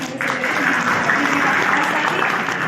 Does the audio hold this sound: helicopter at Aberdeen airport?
no